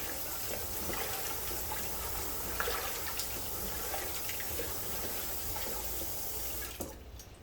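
Water gushes and splashes steadily while rinsing and draining soaked beans in a sink before pressure canning, a continuous moderate flow that cuts off abruptly near the end.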